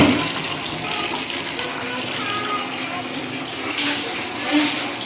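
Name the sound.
tap water running into sink while washing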